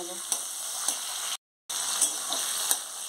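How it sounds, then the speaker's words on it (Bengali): Vegetables for shukto, starting with drumsticks, sizzling and frying in hot oil in a pan, a steady close crackle with a few stir clicks and a brief dropout. "এগুলো সব একটা একটা করে ভেজে তুলে নেব"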